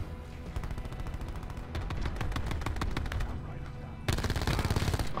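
Rapid automatic gunfire in Call of Duty Black Ops 4 keeps going almost without a break, with dense bursts that grow louder and sharper near the end. No one talks.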